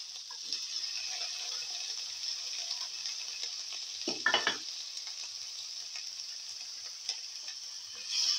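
Tomato pieces sizzle steadily in a hot pan during a stir-fry with bitter gourd and fenugreek leaves, a constant close hiss with one brief scraping stir in the middle.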